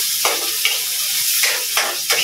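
Hot oil spits and crackles in a pan of frying bitter gourd (ampalaya), a steady close sizzle broken by several sharp pops and spatters, with no talking.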